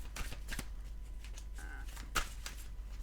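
Tarot cards being shuffled and drawn, giving a few short papery riffles and flicks with a sharper snap near the end, close and fairly quiet over a low steady hum.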